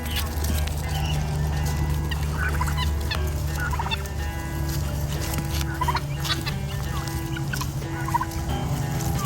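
Several turkeys gobble repeatedly as they approach, loud and close, with bursts of calls overlapping one another over a constant low outdoor rumble.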